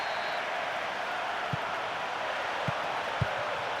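A steady stadium crowd roar in a football video game, a constant broad murmur of spectators with a few faint thuds, no clear speech.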